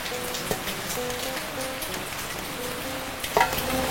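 Steady rain patters continuously on a surface, with a few sharper drops standing out near the end.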